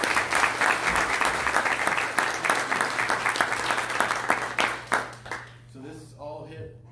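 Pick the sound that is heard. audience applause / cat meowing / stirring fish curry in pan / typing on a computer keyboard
audience applause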